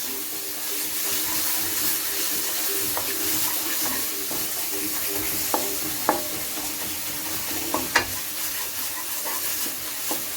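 Spices, including cumin powder and deggi mirch powder, fry in a pan while being stirred for Amritsari aloo wadiyan. A steady close sizzle runs throughout, broken by a few sharp spoon clicks.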